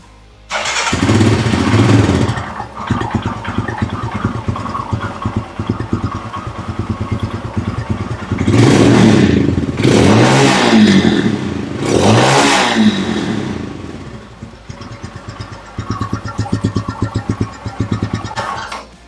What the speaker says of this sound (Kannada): ಈ ಬೈಕ್ ನ ನಾವು ಮೊದಲನೇ ಸಲ ಕ್ರ್ಯಾಂಕ್ ಮಾಡ್ತೀವಿ.